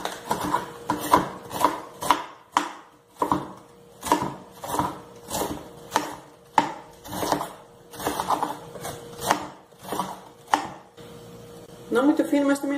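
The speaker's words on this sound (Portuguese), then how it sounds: "Agora vamos lá cortar o repolho" A knife chops cabbage on a cutting board, cutting it not too thin for sautéing, in a steady run of close, crisp strikes roughly every half second, with a brief clatter near the end.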